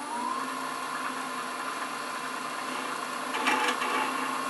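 Wood spins on a lathe while a half-inch spindle gouge cuts into it, giving a steady motor hum with a high whine and a rough scraping texture that swells briefly near the end; no one speaks.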